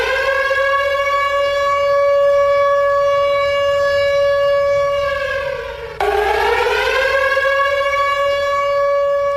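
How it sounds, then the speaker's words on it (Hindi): Air raid sirens wailing across northern Israel during wartime, a loud sustained rising and falling tone that dips and restarts, with no voices. "उत्तरी इजराइल में युद्ध के सायरन बज रहे हैं।"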